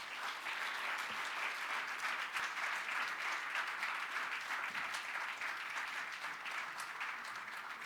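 Sustained applause for the President at the opening of a civil society forum. A large crowd claps in a dense, even roar that holds steady throughout.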